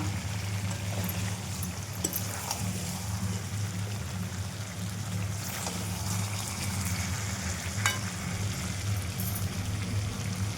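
Potato curry cooking down in oil in a pan, a steady low hiss and bubbling crackle running evenly for the whole stretch with a few faint clicks, close and unaccompanied by voices.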